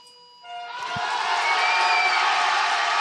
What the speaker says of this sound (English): the crowd here in the Tissot Velodrome in Grenchen has gone wild